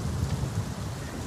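Heavy rain falls steadily in a dense, even hiss with no pauses and no voices.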